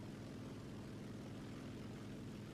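Steady propeller engine drone of a P-39 fighter plane in a combat flight video game, a constant low, even hum holding at moderate level with no voices over it.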